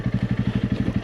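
Honda CRF 300 Rally motorcycle rolling slowly in first gear, its single-cylinder engine thumping in a steady, even pulse close by, low and chugging with no voices.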